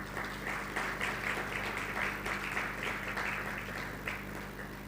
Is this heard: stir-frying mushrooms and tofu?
no